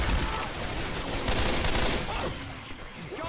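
Dense, continuous gunfire from the Left 4 Dead 2 video game, loud rapid shots blurring into a sustained barrage that eases off slightly near the end.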